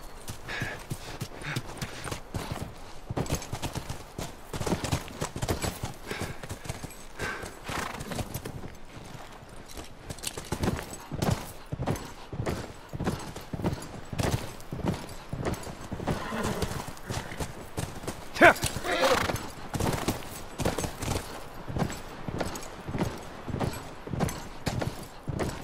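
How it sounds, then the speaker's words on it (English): Horse hooves clip-clop steadily in The Last of Us, with a horse neighing partway through, the rhythmic hoofbeats continuing throughout at moderate volume. "Come on, back to the horses."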